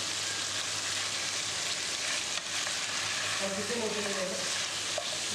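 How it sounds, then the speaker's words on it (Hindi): A steady, dense sizzle of garlic ginger paste frying in a hot pan over medium heat, close and continuous, with faint stirring noises partway through. "अब इस दोनों चीज़ों के साथ हम इसको तकरीबन 1 मिनट तक फ्राई करेंगे दरमियानी आंच पर"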